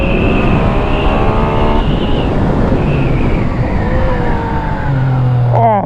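A 2017 Yamaha MT-09 motorcycle engine screams at full throttle. Loud, rising revs climb through the gears, broken by brief shift breaks. The roar stays close and constant with no speech over it.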